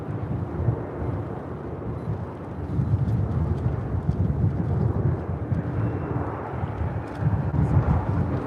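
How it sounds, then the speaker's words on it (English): A Lufthansa Boeing 747-8 Intercontinental heavy jet takes off at LAX, its engines producing a broad, rumbling roar that swells and surges at a distance, heard alone with wind buffeting the microphone. "This is Lufthansa 457 Heavy taking off to Frankfurt. 747-8 Intercontinental."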